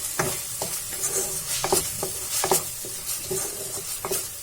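Tomato-onion masala for dal makhani is stirred in a pan, a spoon scraping and clacking in a steady rhythm over a continuous sizzle from the hot pan.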